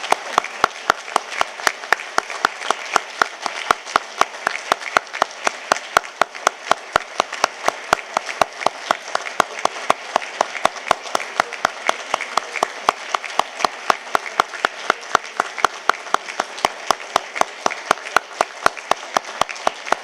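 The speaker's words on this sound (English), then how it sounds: "so we may give them a huge round of applause" An audience at an awards ceremony gives the award recipients a long, steady round of applause, dense clapping that holds evenly for about twenty seconds.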